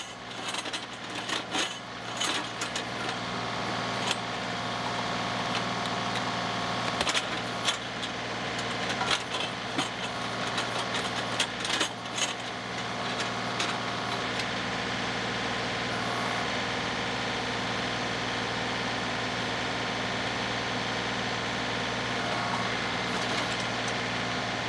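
A tractor-mounted backhoe digs out a giant tree stump, its diesel engine droning steadily under repeated clanks, scrapes and knocks of the bucket against wood and soil, with no talking.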